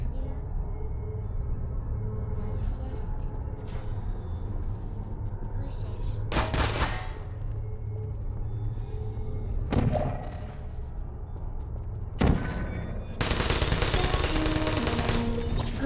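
Turret gunfire in the video game Portal, with several sharp bursts of shots cutting through a steady background hum, the last burst longer and denser; no speech over it.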